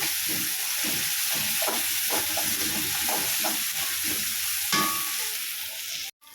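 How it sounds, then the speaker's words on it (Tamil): Ginger garlic paste being sautéed in a pan for a roadside-style salna, with an even frying hiss and rhythmic scraping strokes of stirring, ending in a brief knock. "இஞ்சி பூண்டு பேஸ்ட் நல்லா வாசனை போகிற அளவுக்கு நம்ம வதக்கியாச்சு"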